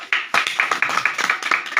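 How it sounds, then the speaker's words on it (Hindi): An audience claps in a brisk, fairly loud burst of overlapping hand claps that continues steadily, with no voices over it. "जोरदार तालियां हैं सर।"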